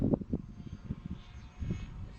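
A radio-controlled model airplane engine drones unevenly through a windy outdoor flight, its pitch and loudness swelling and fading as the throttle changes, with gusts of wind buffeting in the background.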